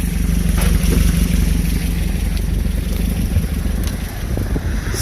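A Volkswagen Baja engine fitted with Weber IDF 48 carburetors idles slightly low while still cold, a loud, steady low rumble with an even throbbing pulse, close up and alone.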